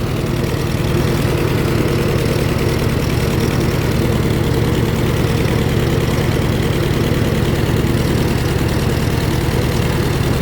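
A farm engine runs cold just after starting, with a loud, steady low idle. Its rapid, even chugging pulse carries throughout, with no voices.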